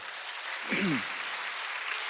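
Congregation applauding during a Sunday evening church sermon, a broad steady wash of clapping at moderate distance with a brief swell and a short voice in the middle.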